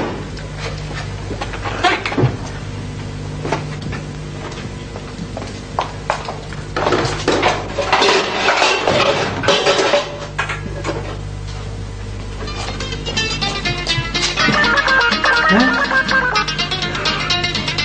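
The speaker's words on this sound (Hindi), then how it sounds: "या अल्लाह, बर्तन गए" Dishes, pots and pans fall and clatter loudly in a domestic scene from an old PTV Urdu drama, with a burst of metallic crashing and ringing mid-clip amid background music.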